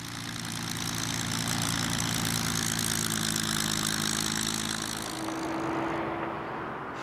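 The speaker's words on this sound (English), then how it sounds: "The supercharged Merlin engine in the Mark 9 Spitfire is what they came up with." Supercharged Rolls-Royce Merlin engine in a Spitfire Mark 9 runs loud and steady, a deep droning roar with strong low harmonics that holds throughout, its pitch shifting slightly near the end.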